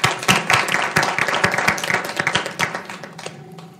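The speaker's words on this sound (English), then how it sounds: "So another round of applause," People at a school district governing board meeting give another round of applause for the teachers, with a scattered, moderately loud clapping that thins out and fades after a few seconds.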